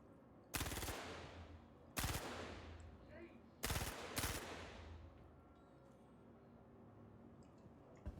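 Gunfire in the space game Star Citizen comes in short, sharp bursts, four sudden volleys spread over several seconds, fairly close, against a low background hum.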